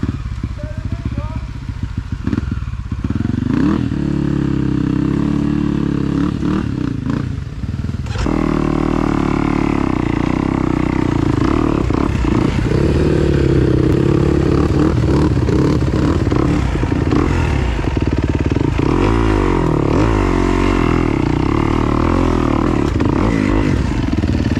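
A KTM 275 big bore dirt bike engine running loudly close by, idling roughly before revving up into a sustained, strained roar with clattering mechanical noise, a voice briefly heard early on.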